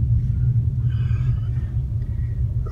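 A car cruising north along the Las Vegas Strip gives a steady, low engine and road rumble from inside the cabin, constant in level throughout with faint higher tones drifting above and no talking.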